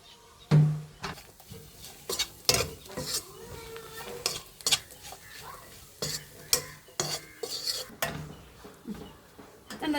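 Coriander and chili powder roast in a pan while a spatula stirs them, giving a steady dry sizzle broken by repeated sharp scrapes and clinks against the metal, close and fairly loud.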